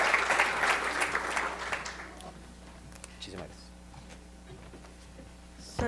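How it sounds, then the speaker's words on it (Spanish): Audience applause for a panel at a regional training seminar, loud at first and then thinning out and fading within about two seconds, leaving a quiet room with faint movement. "démosles un fuerte aplauso para ellos"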